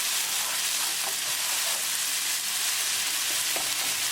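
Egg peas curry stirred and frying in a pan, a steady close sizzle with a few soft scraping strokes of the spoon, no voices.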